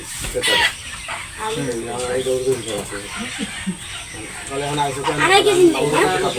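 Poultry chickens cluck and squawk intermittently through a busy market sale, mixed with steady nearby conversation and crowd noise.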